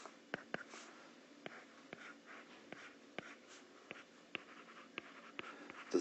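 A pen draws free body diagrams on paper with quick scratchy strokes and sharp taps as the tip lifts and lands. The strokes come in an irregular rhythm, close and alone.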